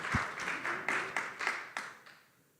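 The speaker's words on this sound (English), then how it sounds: "yeah, give them applause." Conference audience applauding, a short burst of several distinct clap swells rising and fading over a couple of seconds before trailing off into quiet.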